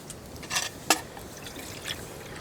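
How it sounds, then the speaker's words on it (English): Water emptied from a canteen into a cooking pot for rice at an overnight bushcraft camp in spring, heard as a few short, quiet splashing gurgles against a faint outdoor background. "but we'll just empty out the canteen"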